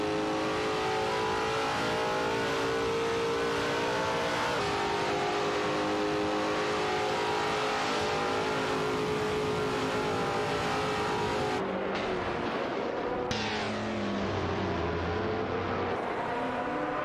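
Race cars in an AI-driven race roar loudly and continuously, engine pitch climbing and dropping as they accelerate through curves, with a shift near the end as cars pass.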